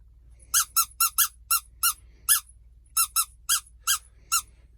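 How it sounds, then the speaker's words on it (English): A red plastic fish-shaped squeaky toy squeaks about twelve times in quick, uneven bursts, each a sharp high squeal, close and clear against a quiet room. "He's my best red, plastic, squeaky, fish-shaped friend."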